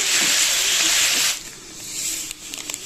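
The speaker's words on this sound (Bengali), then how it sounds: "হলুদটা দিয়ে সামান্য ভেজে নেব" Sliced ridge gourd frying with turmeric in a pan, a loud sizzling hiss for over a second that quickly dies down to a softer crackle with a few light scraping sounds.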